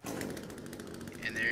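Chainsaw from the survival game The Forest revving close and loud in a short burst, rough buzzing texture with a rising pitch at the end, under overlapping talk.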